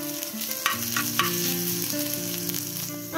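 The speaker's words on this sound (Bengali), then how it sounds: "এবারে লঙ্কাটা একটু ঘিয়ের মধ্যে ভালো মতো ফ্রাই করে নিচ্ছি" Dried chilies and sliced ginger fry in hot ghee with a dense, even sizzle, and tonal music plays steadily underneath throughout.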